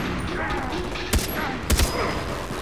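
Gunfire in the video game Far Cry 3 cracks out as two sharp bursts over steady game ambience, the second a quick doubled shot, close and loud.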